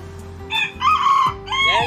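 A bantam rooster crows nearby, giving a loud cock-a-doodle-doo in two or three rising and falling phrases over low background hum, with no talk.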